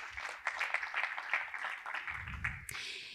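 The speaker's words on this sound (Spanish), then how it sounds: "Fuerte aplauso también para Lidia." Audience at an architecture networking event in a Porcelanosa showroom in Málaga clapping for a speaker, a moderately faint patter of many hands in a room.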